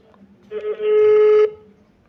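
A single phone ringback tone sounds for about a second while a call is placed, steady and fairly loud, followed by quiet.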